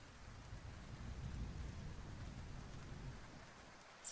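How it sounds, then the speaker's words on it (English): Steady rain falls in a video game scene, a soft continuous hiss with a low rumble beneath that could be distant thunder, faint and even throughout without voices. "I hear the muffled sounds of thunder fading above as I feel the rain falling mercilessly on my body."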